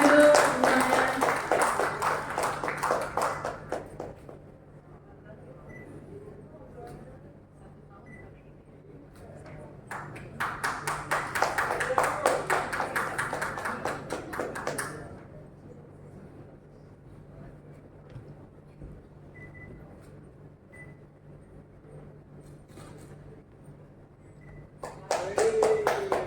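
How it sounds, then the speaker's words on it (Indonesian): Two long rounds of hand clapping rise from an audience at a Rotary Club event in Bandung, Indonesia, with quieter stretches between them and a brief burst of applause at the end. "Yeay, tepuk tangan dulu semuanya."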